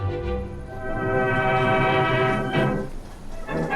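A newly equipped Red Cross train carrying wartime casualties arrives in Sydney, a rumbling railway sound with a sustained horn-like tone swelling and fading, heard alone without talk.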